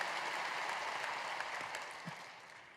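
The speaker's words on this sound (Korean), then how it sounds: "우리 하나님께 영광의 박수를 드리겠습니다" Church congregation applauding during a Friday evening service, a dense wash of clapping at moderate level that gradually tapers off.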